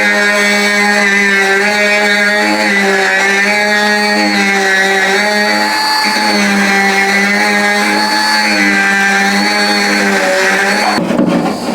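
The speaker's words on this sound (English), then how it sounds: "A little bit of die grinding on some spots." A die grinder works on the door handles of a 1970 El Camino, a steady high-pitched whine held loud and close for about eleven seconds with slight wavering pitch, then cutting off abruptly at the end.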